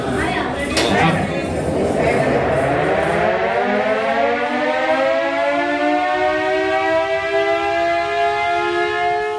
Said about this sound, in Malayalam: അന്നു മുതൽ രാവിലെ 6 മണിക്കും ഉച്ചയ്ക്ക് 1 മണിക്കും വൈകുന്നേരം 6 മണിക്കും കോർപ്പറേഷനിൽ സൈറൻ മുഴങ്ങും